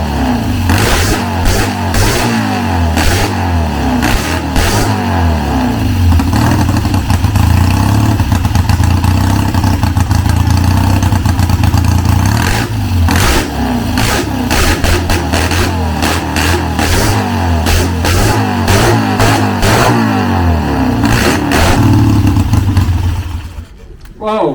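Super drag bikes fire up and rev at a motorcycle museum, a loud, sustained engine roar with repeated throttle blips and surging revs close by, ending in an abrupt cutoff.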